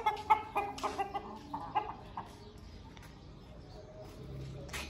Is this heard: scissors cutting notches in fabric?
no